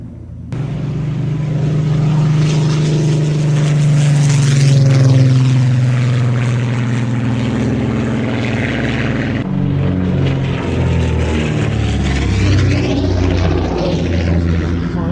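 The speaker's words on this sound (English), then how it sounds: "We're about to get this stunning Spitfire 14 into the air." A Spitfire 14 propeller fighter takes off, its piston engine roaring loud and steady throughout, with a throbbing low drone and shifting pitch as the aircraft gathers speed.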